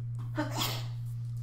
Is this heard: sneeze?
yes